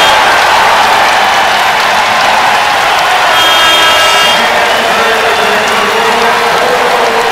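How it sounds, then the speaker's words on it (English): A college basketball crowd on its feet cheering the Buffalo Bulls against Central Michigan, a loud, continuous roar of applause and voices filling the arena without a break. "listen to the crowd on its feet cheering on their Bulls who have cut the lead to 6"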